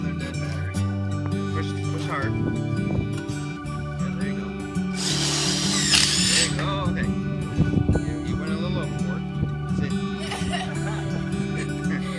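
Power drill driving stainless steel screws into cedar boards for a raised garden bed, a steady whirring drone with a louder burst of bite midway, heard under ongoing talk.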